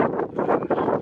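Wind buffeting a microphone beside a truck on a windy roadside, a close, loud rumbling roar with gusty swells and brief dips over about a second, no voices.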